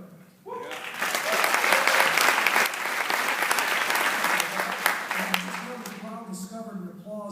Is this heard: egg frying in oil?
no